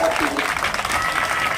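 Brief burst of crowd applause at a protest sit-in rally in Karimnagar, dense clapping heard over a voice that keeps talking through it.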